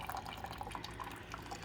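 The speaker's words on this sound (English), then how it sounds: "we want that vinegar and water to get inside that heater and tank and run through it" A vinegar and water descaling solution runs through a Keurig K-Select coffee maker, giving soft irregular drips and trickling water, faint and close, with no talk.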